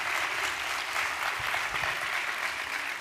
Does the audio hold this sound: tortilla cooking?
no